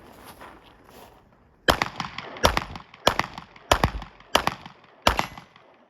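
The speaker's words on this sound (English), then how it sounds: "Is that 5 or 6 shots?" Six sharp handgun shots fired one after another at a distant target on an outdoor training range, evenly spaced about half a second apart, loud and close, with quiet ambient noise before the string begins.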